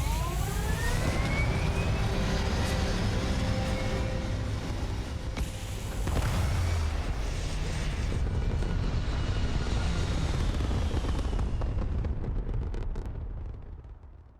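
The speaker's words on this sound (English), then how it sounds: "We have liftoff." A spaceship lifting off in the video game Starfield, a loud, steady engine roar with a rising whine that holds for most of the stretch, then fades away toward the end.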